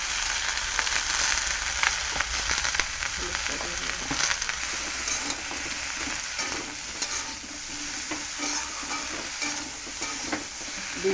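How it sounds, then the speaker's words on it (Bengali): Cauliflower frying with spices in a pan, a loud continuous sizzle with frequent scraping stirs running throughout. "ফুলকপি মশলা দিয়ে এখন কষিয়ে নিচ্ছি।"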